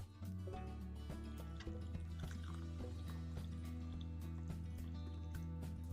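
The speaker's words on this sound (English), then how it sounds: "We put it in a small cup and add boiling water to it." Boiling water is poured into a small cup holding a clove mix, giving a close, quiet, steady trickling and filling sound with faint drips and no speech.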